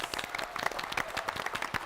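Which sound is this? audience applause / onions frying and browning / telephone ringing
audience applause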